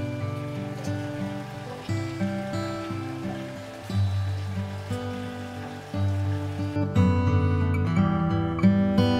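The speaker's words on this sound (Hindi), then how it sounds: "यहाँ पे मुझे पानी की सिर्फ आवाज आ रही है," Steady rushing water, like a fast stream, runs throughout at Norbulingka in Dharamshala with a constant hiss, mixed with droning tones and a louder surge near the end.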